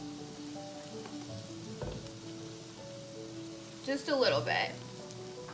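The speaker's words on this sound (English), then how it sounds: "I'm going to go ahead and throw the shallots in, and we're just going to go ahead and break them up." Shallots frying in a pan for a breakfast casserole, a soft steady sizzle under a voice talking, with a brief louder burst of scraping and sizzling as they are broken up and stirred.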